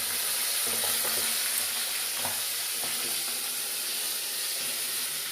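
Hilsa fish pieces, rubbed with lemon juice, frying in a pan with steady oily sizzling and hiss, some faint stirring clatter, continuous and close.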